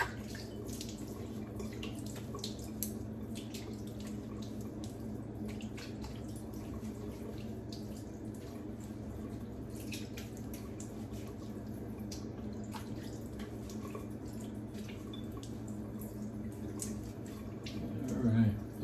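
A bathroom tap runs steadily for rinsing after a wet shave, a continuous wash of falling water with small splashes and drips throughout, louder briefly near the end.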